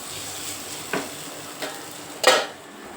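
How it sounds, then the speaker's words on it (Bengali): Potatoes frying in a pan in a home kitchen, a faint steady sizzle broken by three distinct utensil scrapes and clinks, the last one loudest, with no talking. "আলু ভাজা করছি"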